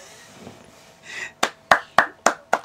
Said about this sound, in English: I applauded you for that